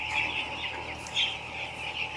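Chickens cluck softly in a large automated poultry farm shed, a steady, fairly distant murmur of many birds over a constant machinery hum.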